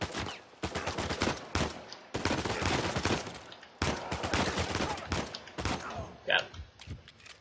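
Sustained Uncharted 4 gunfire blasts in dense, loud bursts, separated by a couple of brief gaps, with voices talking over the shooting.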